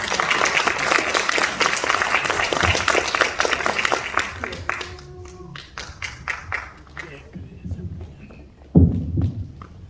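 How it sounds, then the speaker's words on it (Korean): An audience at a book launch event applauds as a guest is called to the front, with steady clapping that thins into scattered claps and ends with a thump amid low voices. "우리 박수 한번 보내드리기 바랍니다"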